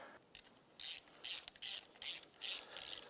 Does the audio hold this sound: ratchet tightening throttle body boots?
yes